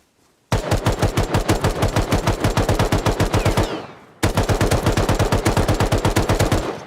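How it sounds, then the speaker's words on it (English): Hip-fired automatic weapon bursts in the video game Rust: two long rapid strings of loud, evenly spaced shots, separated by a brief pause, with no talking over them. "that hip fire is crazy"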